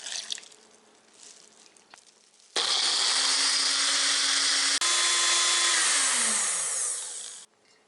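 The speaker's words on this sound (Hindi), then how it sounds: "इनको ग्राइंड कर लेते हैं।" Electric grinder blending ginger, garlic and green chili with a little water, a loud whirring motor that starts abruptly after a quiet moment, runs steadily, then winds down in pitch before stopping.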